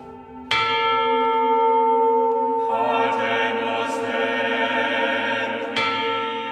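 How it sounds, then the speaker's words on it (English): A Sanctus church bell rings out loudly with a long humming decay, then is struck again several times, tones overlapping and sustaining. "But incredibly, the Sanctus bell survived. And there she is."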